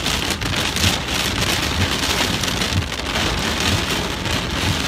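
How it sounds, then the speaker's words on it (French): Hail and strong wind gusts batter the town of Castres in southern France during a late-May storm, a loud, dense, continuous roar of pelting impacts and rushing air with no let-up. "donc de fortes rafales de vent, de la grêle également."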